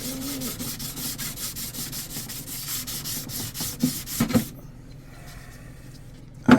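Carbon fiber RC boat hull being sanded with high-grit sandpaper: steady repeated rubbing strokes for about four seconds, a few sharper scrapes, then near quiet and a brief knock at the end.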